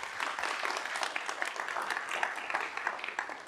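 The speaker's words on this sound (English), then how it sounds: "Let's give Carrier a big round of applause." A conference audience applauds with dense, steady clapping that stays even and fairly loud throughout, with no distinct voices standing out.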